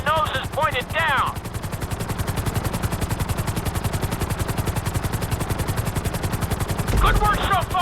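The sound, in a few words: helicopter flying in video game GTA V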